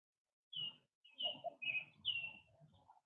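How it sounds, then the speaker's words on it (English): Birds chirp and sing outdoors in short bursts of high, bright calls, several overlapping phrases rising and falling over about three seconds, faint and distant in a quiet setting with no talking. "Noticing perhaps the bird song"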